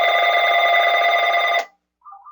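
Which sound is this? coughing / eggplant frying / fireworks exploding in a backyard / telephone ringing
telephone ringing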